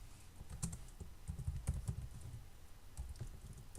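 Someone types C code on a computer keyboard, producing a quick, irregular patter of soft keystrokes with brief bursts and pauses, fairly faint and close.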